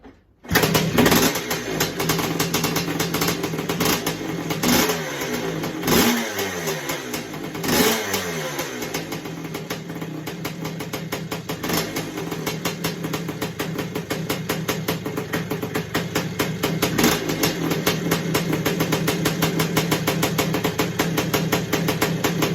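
A 1981 Husqvarna 250CR two-stroke motorcycle engine kicks over and fires, then runs loudly and steadily close by, with several sharp blips of the throttle early on before it settles into a continuous rough idle.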